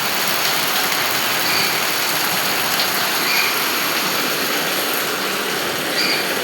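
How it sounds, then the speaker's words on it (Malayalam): Heavy rain pours down steadily, a dense, even hiss that fills the whole clip with no break and no voices. "നല്ല മഴയല്ലേ അകത്ത് പോയിരിക്കാം നല്ല മഴ"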